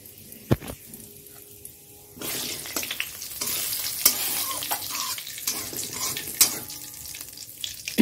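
Cumin seeds and bay leaves sizzle in hot oil in a pan while being stirred, a soft steady frying hiss punctuated by scraping and clinking of the spoon against the pan.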